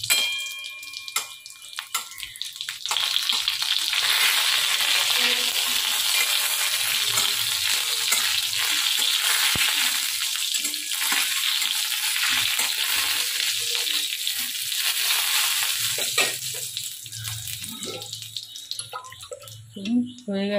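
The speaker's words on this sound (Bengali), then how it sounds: "এটা ভালো করে ভাজা হয়ে গেলে তারপর ডালটা দিয়ে দেবো।" One dried red chilli and a pinch of whole cumin frying in hot oil as a tempering for dal, a steady loud sizzle with a few utensil knocks and a brief voice near the end.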